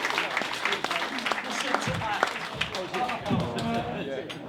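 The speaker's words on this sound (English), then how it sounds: "this applause gets less and less apathetic" Applause from a comedy club audience at the King's Head in Cirencester patters steadily throughout, with a voice speaking over the clapping.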